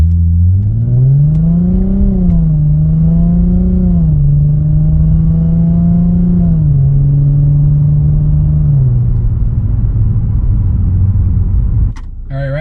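A 2011 Lexus IS350 engine fitted with a Pedal Commander in sport +1 hums loud and close. Its revs rise, fall and hold in several smooth steps, then drop away toward idle near the end.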